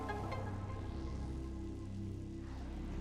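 Acid rain in Metroid Prime 3: Corruption falls as a steady hiss over a low game ambience, constant and fairly faint, with soft tonal swells from the background soundtrack and no talking.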